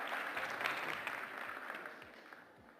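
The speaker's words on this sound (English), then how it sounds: "Big applause for Uprise Energy." Audience applause follows a startup pitch on stage at a live Istanbul startup event, sustained clapping from a crowd at moderate, slightly distant level that slowly tapers, with no speech over it.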